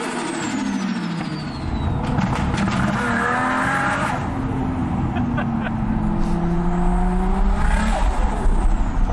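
A TRD Toyota Chaser revs hard close by while its tires squeal and skid, the engine note rising and falling in long sweeps over a continuous loud roar.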